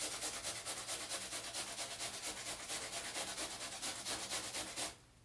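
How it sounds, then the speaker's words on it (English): A whole cucumber grated by hand, steady rhythmic rasping strokes repeating about three times per second, close and fairly loud, stopping abruptly near the end. "So I like to grate the whole cucumber."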